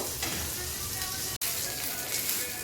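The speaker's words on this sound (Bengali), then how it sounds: "মাছগুলাকে এভাবে ভাজতে হবে, গ্যাসে লো ফ্লেমে ভাজতে হবে" Fish fry in oil in a pan over a low gas flame, giving a continuous, dense hiss and crackle close by, broken only by one split-second dropout partway through.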